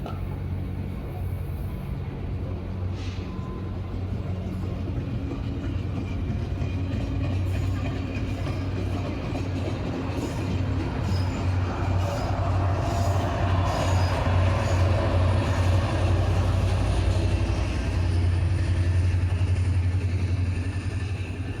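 Union Pacific freight train rolling past at Ogden Yard in Utah, a steady loud low rumble of engines and rail cars that swells in the middle and holds for the whole stretch, with no talk over it.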